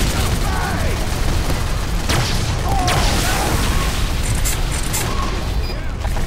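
Bombs exploding in an attack-and-defend video game make dense, continuous booming and rumbling blasts, loud and close, layered with rapid gunfire crackle throughout.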